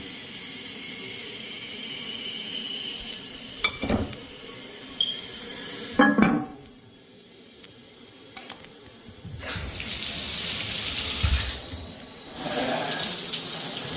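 A shower being run during a house walkthrough: bursts of water hiss and splashing start and stop, with clunks of handling in between, then a steadier rush of running water near the end.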